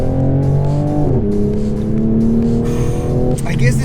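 A Toyota Supra's engine pulls hard through the gears from inside the cabin, loud and steady, with clear upshifts where the pitch drops and climbs again. Someone talks over the engine at times.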